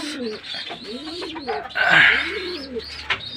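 Several racing pigeons cooing close by, soft rolling warbles overlapping, with a brief chirp and a burst of background rustle partway through.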